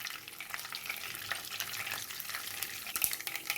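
Mustard seeds with urad and chana dal tempering in hot oil for an aloo poori curry, a steady busy sizzle with scattered pops and crackles throughout, close and moderately loud with no voices.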